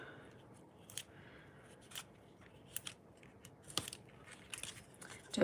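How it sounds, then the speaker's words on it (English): Scissors snip through card stock during a stamping craft project, giving a series of quiet, close, crisp cuts spaced irregularly over a soft background hiss, with no voices. "then cut off the bits that I don't want"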